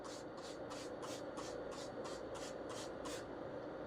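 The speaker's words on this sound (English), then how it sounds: "I'm just going to spray again." Starbrite mildew stain remover is sprayed onto pop-up camper canvas in a quick series of about nine crisp, evenly spaced hisses close to the microphone, heard over a low steady background hum.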